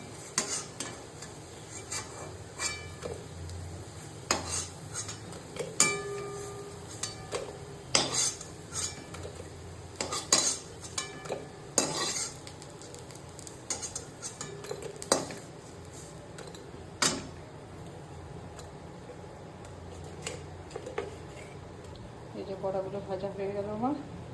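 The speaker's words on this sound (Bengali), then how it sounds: "দেখুন আমার বড়াগুলো ভাজা হয়ে গেল এবার একটা একটা করে তুলে নেবো" Metal utensil clinks and scrapes against a frying pan as fried lentil fritters (bora) are lifted out one by one, a string of sharp clanks and taps over a low, busy kitchen background.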